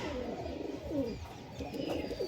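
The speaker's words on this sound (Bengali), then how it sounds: "বন্ধ লেজের পায়রা দেখুন পুরো বন্ধ এক পাত্তা লেজের পায়রা" Pigeons kept in a loft for sale, including closed-tail high-flying birds, coo softly and continuously against a busy background, with low rounded calls repeating close by.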